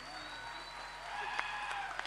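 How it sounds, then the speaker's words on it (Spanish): A concert audience at an anniversary show in Resistencia applauds the band members. The clapping is moderate and somewhat distant under stage amplification and a hum, with a few sharper claps near the end. "Fuertes aplausos para Silvio Aníbal, el Chivi López."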